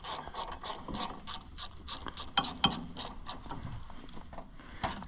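A ratchet loosens a hose clamp on the suction line of an Allis Chalmers 175 tractor, with quick rhythmic clicking strokes up close and a faint background murmur.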